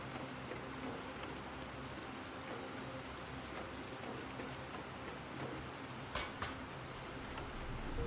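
Rain pours outside a wreck in the video game Planet Crafter, a constant pattering wash with a few slightly louder drips near the end, heard alone without voices.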